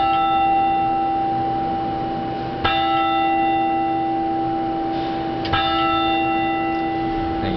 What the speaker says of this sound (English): Tolling the low bells of Hogwarts here.